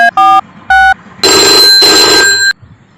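An outgoing phone call ringing: a few short electronic tone bursts, then a loud, continuous ringing tone that stops abruptly after about a second.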